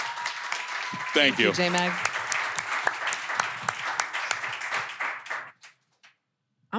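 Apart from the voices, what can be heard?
audience applause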